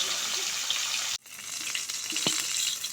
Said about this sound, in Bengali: আমার দিদি বললো জল ঝরিয়ে নিতে, এই জন্য আমি জল ঝরিয়ে নিচ্ছি